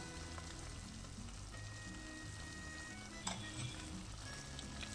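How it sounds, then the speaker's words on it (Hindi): Mutton sizzles steadily in a pan while ginger-garlic paste and chili paste fry with it, a dense, even crackle throughout with one brief louder clink or stir partway through. "इसको मैं बराबर से भून लूंगी।"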